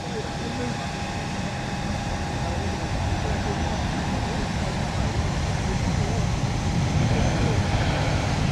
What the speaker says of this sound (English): Boeing 737 coming into land.